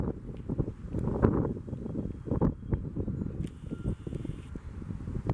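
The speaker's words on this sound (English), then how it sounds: "And it's windy." Gusty wind buffets the microphone in uneven, rumbling bursts, with rustling in the background.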